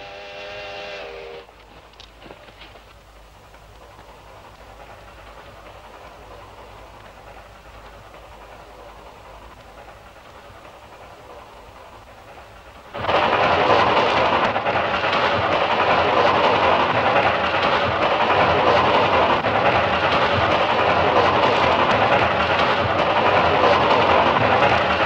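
A steam train in a Western setting sounds a brief whistle at the start, then a low distant rumble builds until the train passes close by with a loud, sustained roar and rattle of rolling cars.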